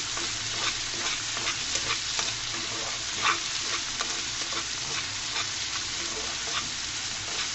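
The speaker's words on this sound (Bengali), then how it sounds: "টমেটোটাকে সুন্দর মতো তেলের সাথে ভেজে নেব আমি" Tomato fries in oil with drumsticks, giving a dense, even sizzle close by, dotted with soft crackles and light stirring scrapes throughout and no speech.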